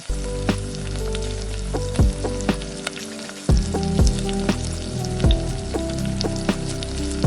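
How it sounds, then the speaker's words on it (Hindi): Potato koftas sizzle and bubble in hot oil, a loud, steady crackle close by, broken by clinks and scrapes as they are turned, with no talking. "हल्का कलर चेंज होने पर कोफ्ते को पलट कर फ्राई करें।"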